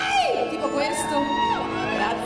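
A concert audience at a wine bar and beer hall gives a burst of shouts and whoops, while a voice talks briefly over the crowd.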